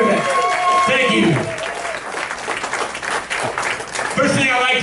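A comedy club crowd at the Punchline in Sacramento claps and cheers loudly for a comedian, with someone speaking over the applause.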